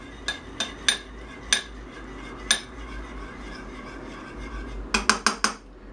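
A spoon scrapes and clinks against a bowl while pizza bite ingredients seasoned with garlic powder are mixed, sharp metallic knocks spaced out, then a quick burst of several clinks near the end, close and fairly quiet.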